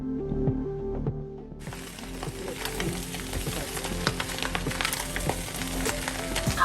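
Ghanaian fried rice is stirred in a pan with a steady, dense sizzle and frequent scraping and clicking of the utensil, continuous and close, with no talking.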